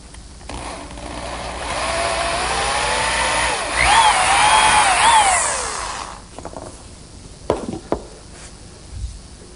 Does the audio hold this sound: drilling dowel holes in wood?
yes